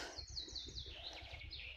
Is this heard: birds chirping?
yes